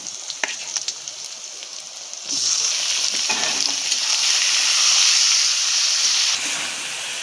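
Meat and eggplant frying in a pan, a steady hiss that swells loudly once the meat goes in, with scraping stirs early on and a constant close sizzle that eases slightly near the end.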